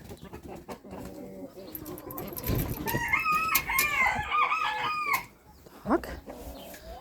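Mixed-breed hens in a coop cluck and squawk nearby, with one loud drawn-out call in the middle, while someone speaks now and then amid rustling.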